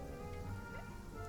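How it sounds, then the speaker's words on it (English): Rain falls in the Genshin Impact video game world, a soft steady wash of drops with no voices in the short stretch. "It's raining."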